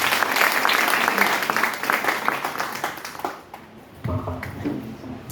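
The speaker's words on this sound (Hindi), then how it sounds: "एक बार ताली अपने लिए।" An audience at a network-marketing achievers' event claps for themselves, a dense burst of applause that thins and fades, then a voice begins speaking at the end.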